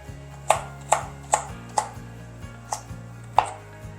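Crisp knife chops of vegetables for macaroni salad on a cutting board, about eight uneven strokes, close and clear over a low steady hum, no voices.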